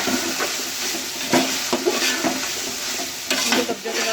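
Chicken fried rice with capsicum and cabbage stir-fries in a hot pan, a loud steady sizzle broken by several sharp bursts as the mix is tossed and stirred, no talk.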